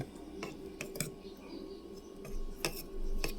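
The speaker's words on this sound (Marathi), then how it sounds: "हे सगळं मिक्स करायचं" Spoon stirring aloe vera gel face spray ingredients in a small container, giving light scattered clinks and taps against the sides over a quiet, faint background.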